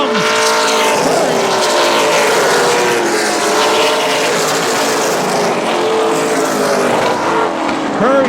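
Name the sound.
race cars at Central Texas Speedway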